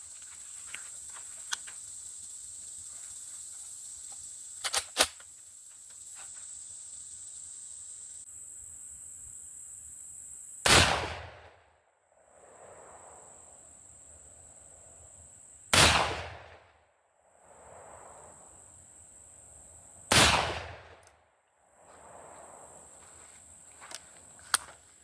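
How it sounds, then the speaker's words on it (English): Three loud, sharp shotgun blasts, spaced about five seconds apart over steady insect-like background hiss, come from a G-Force automatic 12 gauge shotgun firing 3-inch slugs outdoors, each shot trailing off in a brief echo. "Keep in mind this is with a 12 gauge, 3-inch slug."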